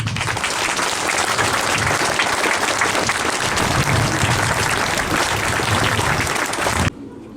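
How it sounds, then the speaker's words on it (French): An audience applauds loudly and continuously in a hall during a tribute, sustained dense clapping that cuts off sharply near the end. "je crois qu'on peut applaudir"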